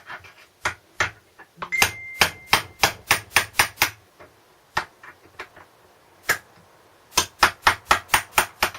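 A hammer strikes hard and close on a generator in quick bursts of repeated blows, with short pauses between each run.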